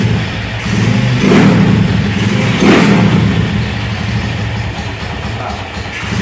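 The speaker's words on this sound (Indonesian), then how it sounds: "kita dengar suara knalpot bobokan nih" A 2005 Honda Tiger motorcycle with an open exhaust revs up twice in rough, throaty bursts, then settles back to a low idle rumble.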